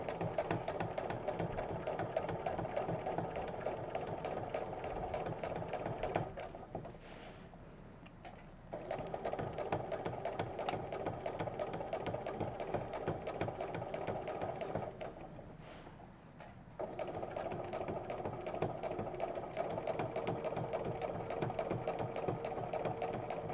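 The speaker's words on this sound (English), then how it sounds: "we're going to quilt up and back to finish the outlining of this triangle" Domestic sewing machine quilting straight lines along a ruler inside half-square triangles, a steady rapid needle chatter running continuously with two brief quieter pauses where stitching slows, close and loud with no talking.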